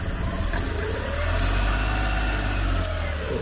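A Suzuki F6A engine in a rear-engine multicab, hard starting and misfiring, runs at idle with a steady low rumble, heard close and alone.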